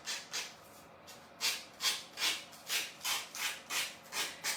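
A decoupage piece is sanded by hand in about ten rhythmic back-and-forth strokes, each a soft, airy rasp, close and quiet with no voices.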